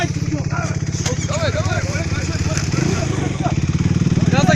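A motorcycle engine runs steadily and loudly at close range, with a dense, rumbling low drone that continues throughout while people talk and shout over it.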